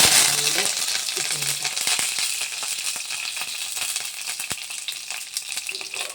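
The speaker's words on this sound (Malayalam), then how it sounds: "നമ്മുടെ കടുകെല്ലാം പൊട്ടിയിട്ടുണ്ട്" Oil sizzles steadily with scattered sharp pops and crackles of mustard seeds bursting, close and fairly loud, with a few faint clinks.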